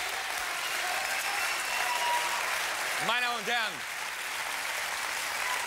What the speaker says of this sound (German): dieser Applaus